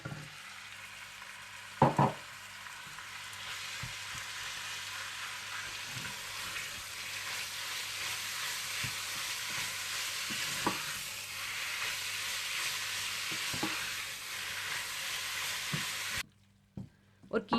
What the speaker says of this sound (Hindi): जीरा और अदरक लहसुन भूनने के बाद आप इसमें कीमा डालकर भून लें।